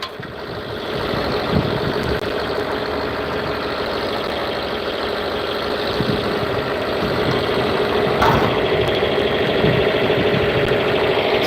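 An old tractor engine runs steadily with its PTO engaged, a loud, continuous mid-pitched rumble with a knocking texture, heard up close without speech.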